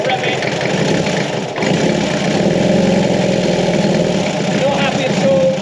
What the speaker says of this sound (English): I'm going to rev it now and you will see the engine will just cut out.